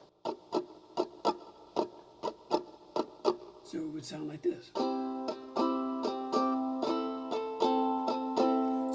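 Guitar strummed in a pattern that bounces off the top strings, opening with a run of crisp, evenly spaced muted strums, then a brief spoken line, then fuller ringing strums in a steady rhythm.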